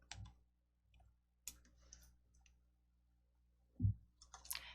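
A few sharp computer mouse clicks, sparse and close, in a quiet room, with one louder click near the end.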